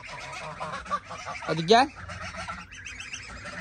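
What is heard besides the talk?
chickens being called into the coop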